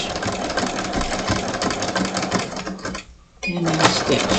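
A domestic sewing machine runs forward in a steady burst of rapid stitching, drops out for a brief pause, then starts again for back stitching, close and fairly loud.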